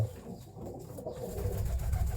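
An old-bloodline pigeon kept as a fancy bird gives a soft, low cooing close by, a brief throaty murmur that rises slightly toward the end.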